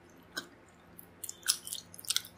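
Steamed siopao with asado filling being eaten up close, with a few soft bites and then a burst of moist chewing and mouth clicks, faint and with no talk.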